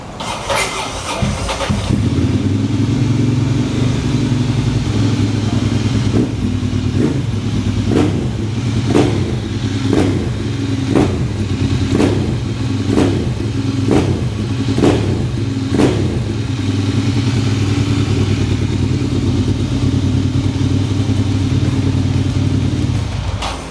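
A 2013 Ducati Monster 795 motorcycle idles with a steady low rumble, then its engine is blipped in a series of about ten sharp, evenly spaced revs before settling back to idle, loud and close with no talking.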